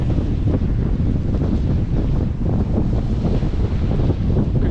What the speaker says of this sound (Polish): strasznie zaczęło wiać, jest bardzo zimno później, są duże fale